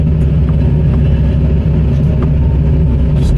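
A loud, steady diesel drone from a working excavator engine digging and swinging a full bucket of mud, heard up close from the cab with faint clanks and creaks over the rumble.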